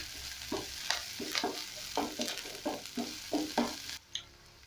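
Ginger garlic paste and coriander stems frying for goat curry in a pan, with a constant hiss and about eight rhythmic scraping stirs up close, ending in sudden quiet after one last clink.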